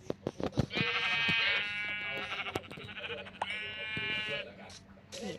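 Sheep bleat in the video game Minecraft, two long wavering bleats close by, mixed with clicking and tapping game sounds while someone talks throughout.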